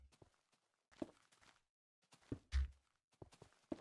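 Footsteps in the Minecraft video game come as a few soft, sparse, quiet thuds separated by silence, without speech.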